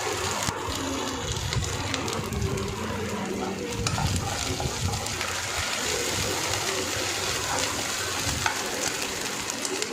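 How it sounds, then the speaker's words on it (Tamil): Onions with ginger garlic paste sautéing in a pan for brinjal rice, a steady close sizzle with stirring scrapes and occasional crackles, continuous and fairly loud with no talk. "அதையும் சேர்த்து நல்லா வதக்கி விடுங்க,"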